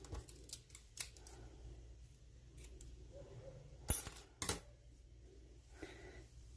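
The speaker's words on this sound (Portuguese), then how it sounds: "E posso cortar aqui o meu fio." Scissors snip crochet yarn close by, a couple of sharp metallic clicks standing out against quiet handling noises and soft rustling of the work.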